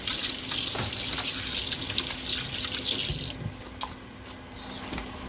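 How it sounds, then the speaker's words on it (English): A kitchen tap runs steadily for hand washing, loud and close, then the flow is cut back or stops near the end, leaving quieter drips and splashes. "So let me wash my hands."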